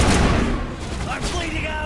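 Rapid turret gunfire rakes across a sci-fi shooter video game battle, dense and loud throughout, a continuous chattering burst with booming low end that never lets up.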